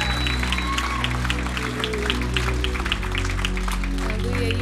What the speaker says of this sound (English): Give him a hand clap of praise today.